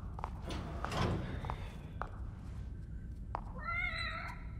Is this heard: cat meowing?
yes